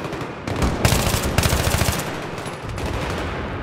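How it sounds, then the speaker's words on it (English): Rapid automatic gunfire bursts in a Battlefield 3 multiplayer match on PC, loud sustained volleys broken by short gaps, with no talking over them. "I have someone shooting."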